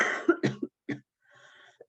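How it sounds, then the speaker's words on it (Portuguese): A person coughs several times in quick succession, near and fairly loud, with bursts bunched in the first second followed by a brief throat-clearing sound and a faint final rasp. "estou com um pouquinho de tosse"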